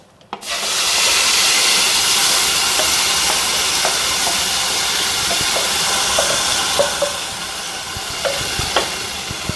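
Loud, steady sizzling of paste frying in hot oil, a continuous hiss with scattered small pops and crackles, close and without talk.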